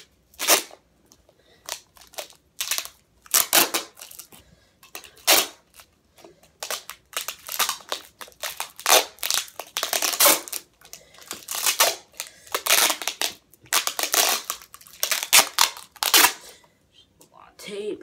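Repeated sharp ripping and crinkling bursts of duct tape being pulled and pressed down onto a ball, irregular and close, with pauses between strips.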